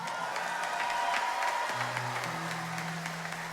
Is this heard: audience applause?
yes